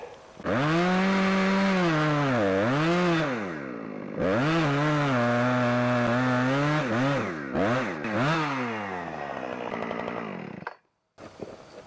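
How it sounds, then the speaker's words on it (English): A chainsaw cuts into a log outdoors, with a loud engine whine that rises and dips as the chain bites and the revs change, then drops out near the end. "this one I'm gonna put a saw cut in it"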